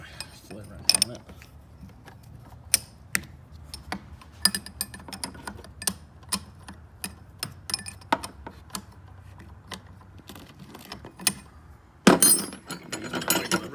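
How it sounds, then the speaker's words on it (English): A wrench tightens a hydroboost line fitting on a 2006 LBZ Duramax, giving a series of close, sharp ratcheting clicks and metallic ticks at an irregular pace, ending in a louder clatter of tool handling. "And then just put this bad boy in here, tighten her down. Put my flare wrench on it."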